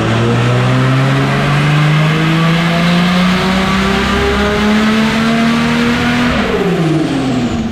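A turbocharged car with an Intech engine runs hard on a dyno, its loud, steady engine note climbing smoothly through the revs for several seconds before easing off near the end, with no talk over it.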